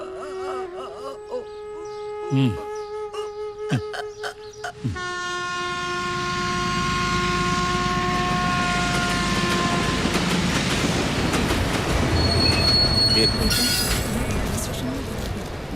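After several sustained train horn blasts, a train rolls past on the rails with a rising, steady rumble and clatter of wagons that stays loud and close to the end.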